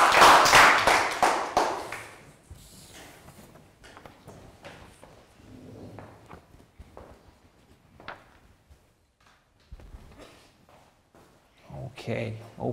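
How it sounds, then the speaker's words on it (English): A burst of clapping in a Year 3 classroom in the first couple of seconds, fading into scattered taps and quiet voices, with children talking again near the end. "Big round of applause for Chu."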